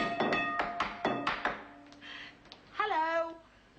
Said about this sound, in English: I hope you weren't knocking too long